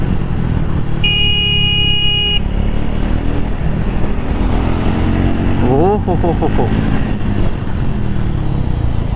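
Triumph Speed 400 motorcycle engine droning steadily while riding, a loud continuous roar with wind rush, a brief horn-like tone early on, and a few spoken words over it.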